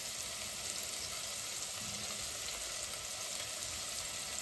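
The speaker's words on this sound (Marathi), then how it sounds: "बाकीच्या भाज्या जरी आपण शिजवून घेतल्या तरी कांदा छान परतला गेला पाहिजे" Onion frying in hot oil with whole spices, bay leaf, peppercorns and cloves, a steady dense sizzle that holds evenly loud throughout with no talking.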